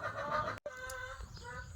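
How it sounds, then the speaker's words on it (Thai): Chickens cluck a few times at close range in a rural home garden, with a short break between calls and faint background noise. "ไก่ก็ร้องกัน"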